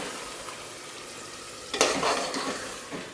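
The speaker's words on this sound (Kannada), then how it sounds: "ರುಬ್ಬಿರೋ ಪೇಸ್ಟ್ ಹಾಕ್ಕೊಂಡು ಇದು ಒಂದೆರಡು ನಿಮಿಷ ಫ್ರೈ ಮಾಡ್ಕೊಬೇಕು" Ground masala paste frying in oil in a pan, a faint steady sizzle broken by a brief louder stir partway through.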